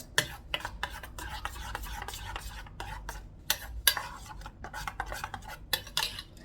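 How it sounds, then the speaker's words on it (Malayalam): Omelette batter with pepper being mixed in a bowl, with a steady run of close, clinking scrapes and taps from a utensil against the dish in an uneven stirring rhythm, heard alone. "നന്നായിട്ടൊന്ന് മിക്സ് ആക്കണം എല്ലാം കൂടി ചേർത്തിട്ട്."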